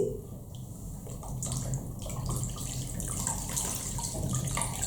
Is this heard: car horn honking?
no